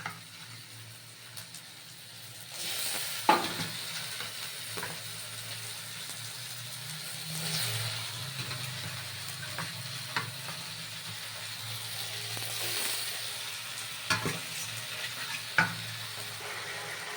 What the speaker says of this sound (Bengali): লোটে মাছগুলো আমি মশলার মধ্যে দিয়ে দিয়েছি। এবার লোটে মাছ থেকে না একটু জল ছাড়বে, তো সেই জলটা শুকানো পর্যন্ত আমি এটাকে নাড়তে পারবো